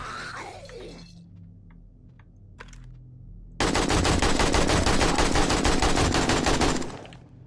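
In the video game 7 Days to Die, a few scattered shots and clicks ring out over a low hum, then a loud sustained burst of rapid automatic gunfire rattles for several seconds before cutting off.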